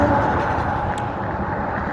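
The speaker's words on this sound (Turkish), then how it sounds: "Bakın şu anda bir tane otobüs geliyor." A bus pulls up along a street outside a bus terminal in Akşehir, Turkey, its steady engine rumble and road noise sounding fairly close and continuous throughout, with no talk.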